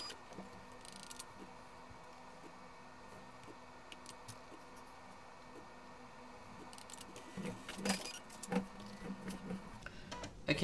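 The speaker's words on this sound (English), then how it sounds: "the printer is performing a cleaning cycle because it has been off for a very long time" A Canon Pixma iP90 printer, long left switched off, runs a cleaning cycle with faint whirring, small ticks and clicks, then busier mechanical rattling near the end.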